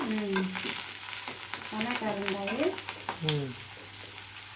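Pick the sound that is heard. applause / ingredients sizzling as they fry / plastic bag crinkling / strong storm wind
ingredients sizzling as they fry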